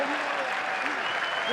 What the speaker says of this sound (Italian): Non sono mancati però applausi e cori per la squadra di Pippo Inzaghi.